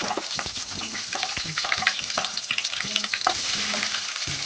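Small onion and green chilies frying in hot oil for a peanut coconut chutney, a steady close sizzle with stirring scrapes throughout.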